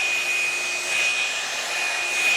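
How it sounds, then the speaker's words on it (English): A hair dryer runs steadily and close by while blow drying hair set on Velcro rollers for a salon-style blowout at home, a continuous airy whoosh with a thin high whine and no talk. "Just blow drying it in every direction, making sure it's all the way dry."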